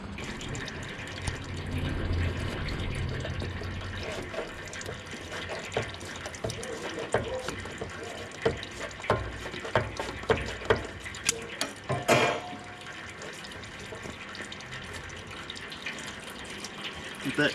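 Engine oil draining from a John Deere Z810 zero-turn mower, a steady liquid trickle with metallic clicks and ratcheting taps from tools nearby, close and fairly busy, with a burst of handling noise midway.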